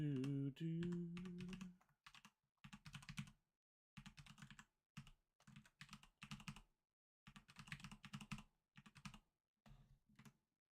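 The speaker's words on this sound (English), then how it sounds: "Got my very loud clackety keyboard." Loud clacky keystrokes on a mechanical computer keyboard come in quick bursts separated by short pauses, close to the mic, after a brief hum at the start.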